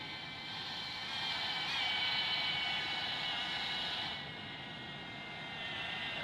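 Boeing 747-200 jet engines spooling down after shutdown in the X-Plane 12 flight simulator, a steady broadband roar with a high whine that swells slightly midway then settles, continuous and fairly loud with no talk.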